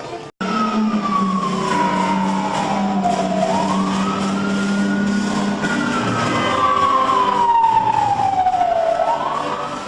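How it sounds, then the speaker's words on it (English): A fire truck's wailing siren rises and falls in long sweeps over a loud engine rumble, close and continuous, at the Backdraft attraction at Universal Studios Hollywood. "If you hear a fire engine, get out of the way."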